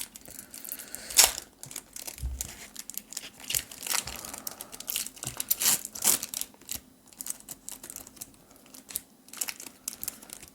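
Pokemon Fusion Strike booster packs torn open by hand, with foil crinkling and ripping in bursts of sharp rustles and crackles, close and intermittent with no speech.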